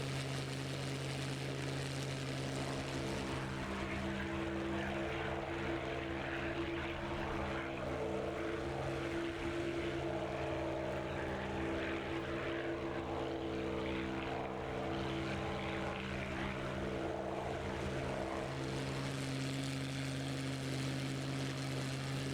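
WWII propeller warplanes dogfighting in the DCS flight sim give a sustained droning engine roar with steady tonal hum, rising and falling slightly as the planes maneuver, with no talk.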